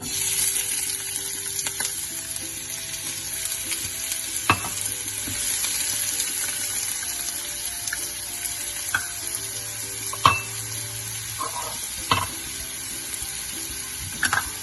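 Onions sautéing in hot olive oil in a saute pan give a steady, close hiss, broken now and then by a few sharper pops and crackles; there is no talking.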